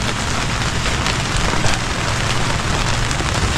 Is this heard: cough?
no